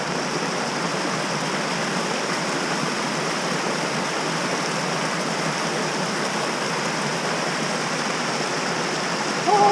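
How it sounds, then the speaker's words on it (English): Water falls and smacks off rock in a snowy mountain wilderness, a loud, dense and unbroken roar like a close waterfall that lasts the whole time without any speech. "The water smacking off the rock."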